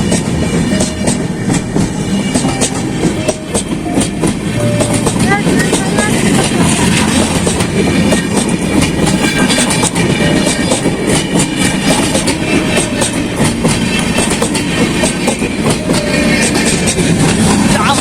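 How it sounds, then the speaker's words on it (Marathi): A train rolls past close by near the flooded Patalganga river, a loud steady rumble with wheel clatter that lasts the whole stretch, and people talk faintly beneath it. "ट्रेन तो आले पास"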